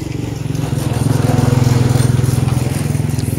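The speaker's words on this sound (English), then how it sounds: "wacha kwanza motorbike ipite" A motorbike passes on a street outside a liquor shop in Kenya, its steady engine drone loud and close, swelling toward the middle and easing off as it goes by.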